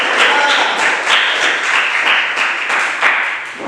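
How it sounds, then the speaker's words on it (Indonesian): Students in a classroom lesson applaud a presenting group: brisk, close, fairly loud clapping from a modest crowd, with individual claps pulsing through a steady wash for a few seconds. "Beri aplaus tepuk tangan untuk kelompok"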